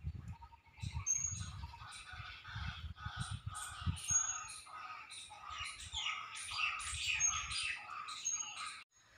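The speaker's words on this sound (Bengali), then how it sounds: "পাখির ডাকটা শুনতে পাচ্ছেন বন্ধুরা?" Birds call outdoors at an ashram with a mix of chirps, squawks and crow-like caws from moderately distant birds, over intermittent low rumbling.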